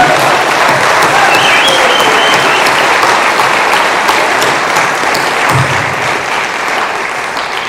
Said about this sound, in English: You guys got to give a round of applause to these guys.